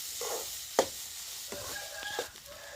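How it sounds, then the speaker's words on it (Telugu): Egg cooks in a pan for restaurant-style egg fried rice, giving a quiet, steady sizzle broken by a few scrapes and clinks of a spatula against the pan. "ఇప్పుడు 2 minutes అలాగే ఫ్రై చేసుకుందాం."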